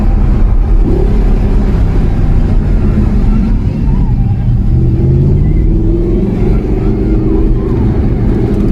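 Audi R8 with a 4.2 V8 engine accelerating, a steady low rumbling engine note rising in pitch through a gear, close and loud from inside the car, with a voice over it.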